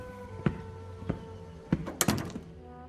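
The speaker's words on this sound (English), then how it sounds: "Alexa opens the door and walks in" An indoor door opened as someone walks in: a few dull thunks spaced apart, then a sharper latch click and a quick rattle, soft and close.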